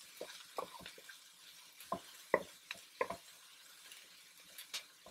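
Green chile added to a pan with green beans: sparse taps and clinks of a utensil against the pan over a faint background hiss, quiet and close.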